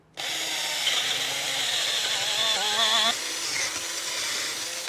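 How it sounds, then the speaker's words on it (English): A 1½ inch hole saw on a power drill bores through a block for a camper van build, a steady close whine that starts abruptly, shifts pitch as the saw cuts deeper, then keeps running at a slightly lighter load. "I'm going to line up my hole saw. This is a 1½ inch blade."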